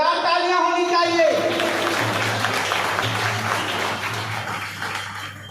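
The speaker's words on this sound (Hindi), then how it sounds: "जोरदार तालियां होनी चाहिए।" Audience applause at a community felicitation ceremony of a Bihar caste welfare council, sustained clapping from a hall crowd with a low steady hum beneath, tapering slightly toward the end.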